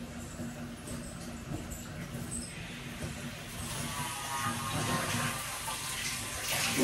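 Water runs steadily into a bucket at home, a continuous splashing flow that grows louder and fuller toward the end, with no talk over it.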